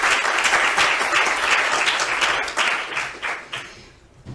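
A dense burst of audience applause at a round-table talk on workplace stress, loud and steady through most of the stretch before thinning and fading near the end.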